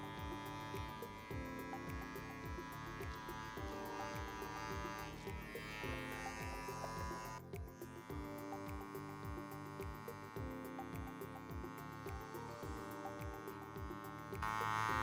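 Hair clippers fitted with a 3mm number 1 guard trim neck hair, giving off a steady electric buzz that runs throughout, partly masked by rhythmic background music.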